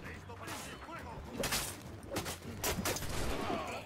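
Gunfire in Assassin's Creed 4 Black Flag, a few sharp, loud musket-like bursts amid game combat noise, with a player talking excitedly over the action.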